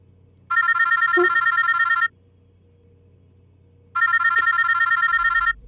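Two bursts of an electronic phone ringtone, each about a second and a half, separated by a pause, loud and clear over a quiet background.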